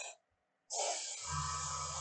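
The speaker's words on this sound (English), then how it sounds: "So we'll just finish off spraying that black." An aerosol or airbrush spraying black paint onto a Land Raider Proteus miniature model, a short hiss that stops, then a longer steady spray joined by a low hum.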